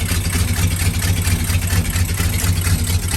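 Engine of a 1971 Kayot boat idling, a steady low rumble with a constant throbbing pulse, loud and close with no voices.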